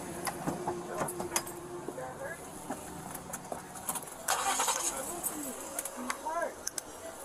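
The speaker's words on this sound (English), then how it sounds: "Go ahead and turn the car on" A car engine cranks and catches, sharp clicks and a brief surge of starter noise among short bursts of talk from people sitting inside the vehicle, followed by a low idle.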